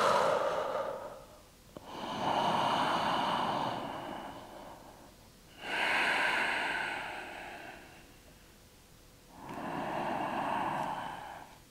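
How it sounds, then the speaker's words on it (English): Slow, audible yoga breaths taken during downward dog, three long airy exhales separated by short pauses, close and alone with no talking. "when you're pushing down, you exhale with your heels"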